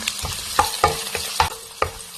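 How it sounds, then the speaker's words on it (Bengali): Garlic, onion and ginger fry in hot oil in a pan, with a sizzling bed under repeated rhythmic stirring clacks and scrapes, about six strokes in quick succession, close and loud. "একটু ভাজা করলাম।"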